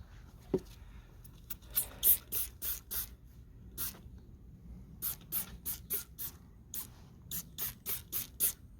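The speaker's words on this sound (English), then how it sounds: "Probably shouldn't spray it on myself." Heavy-duty Easy-Off degreaser is sprayed onto a fender of a 1970 Yamaha AT1B Enduro 125, a series of short, sharp hissing spray bursts, some in quick clusters, with pauses between and no voice over them.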